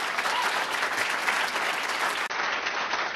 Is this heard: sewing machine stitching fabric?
no